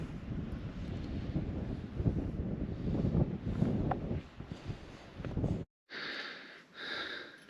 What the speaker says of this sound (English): Very windy, But amazing.